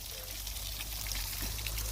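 Water pours steadily from a borewell pump, a faint, continuous splashing flow with a low hum underneath and no voices.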